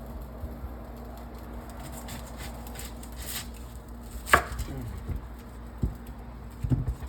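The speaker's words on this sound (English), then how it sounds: "I'll cut up some onions." Onions being cut on a board, a few sharp knife chops standing out near the end over a steady low kitchen background hum.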